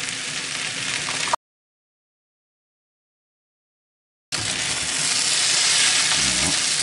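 Noodles stir-fried in a pan and worked with two forks, giving a steady broadband sizzle with no talk, cut off by a gap of silence before the frying hiss returns at similar strength.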